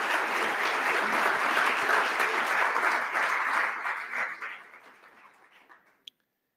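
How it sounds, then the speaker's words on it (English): Audience applause at a live-streamed education panel event, a steady wash of clapping from a sizeable crowd that swells, holds, then tapers off and fades out over several seconds. "Let's give them a nice warm applause for their incredible support."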